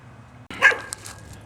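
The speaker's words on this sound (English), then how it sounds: "And a big mouth dog." Dog barking outdoors by a garden, one sudden bark followed by a few softer yips, fairly close and alone.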